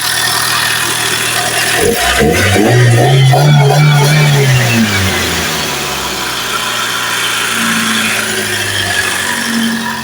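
A Toyota sedan with a 1,500 cc engine and a freshly replaced GS battery starts up and idles loudly up close, with a brief rising rev early on before it settles into a steady hum.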